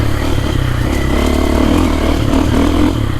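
A four-stroke FE450 dirt bike engine fitted with an Akrapovic exhaust runs loud and close, a steady throbbing drone with slight rises in pitch as the rider works the throttle.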